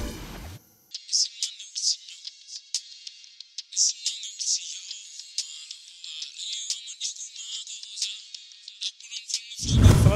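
A mobile phone ringtone plays a bright, high-pitched electronic melody of quick chirping notes for about nine seconds, fairly clear and close, starting and ending abruptly with muffled handling noise.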